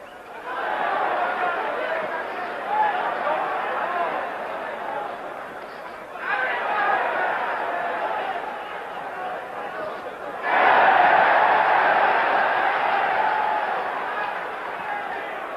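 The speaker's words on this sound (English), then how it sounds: "We're hearing the crowd's excitement" An arena crowd at the Carlos Monzón versus Jean-Claude Boutier boxing match roars and chatters excitedly, the noise swelling in waves and surging loudest near the end.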